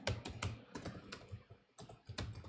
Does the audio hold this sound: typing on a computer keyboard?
yes